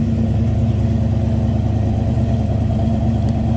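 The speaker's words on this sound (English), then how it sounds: "Dual exhaust, low rumble coming out of that 402." A 1958 Chevrolet Apache pickup's 402 engine idles at an even pitch, a deep continuous low rumble through dual exhaust, with no talking.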